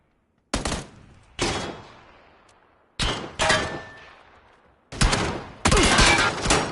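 Several sharp, loud bursts of gunfire ring out in PUBG, each followed by a fading echo, separated by short pauses and ending in a longer, sustained volley.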